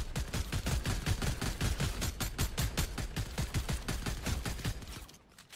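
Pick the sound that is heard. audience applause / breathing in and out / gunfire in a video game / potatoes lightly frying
gunfire in a video game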